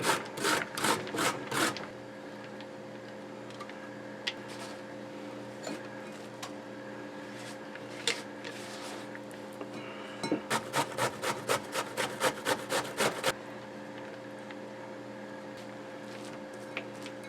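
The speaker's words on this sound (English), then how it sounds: "First thing we're going to do is grate up our zucchini." Zucchini rubbed against a grater makes quick rhythmic rasping strokes, close and fairly quiet. One burst comes at the start and another later, with near-silence between.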